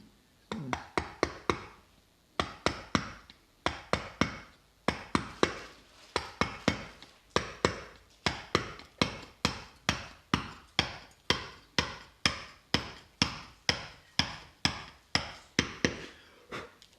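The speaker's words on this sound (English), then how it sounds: "This is just a normal wood chisel, but it's really quite effective on this." A plain wood chisel is struck repeatedly against alabaster in a studio, giving a long run of sharp, evenly spaced taps, close and loud with brief pauses between bursts, no voices.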